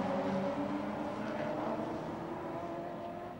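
Historic touring cars racing at Sandown, a Valiant Charger against Ford Mustangs, with a loud, sustained V8 engine roar that slowly fades as the cars pass, heard from trackside.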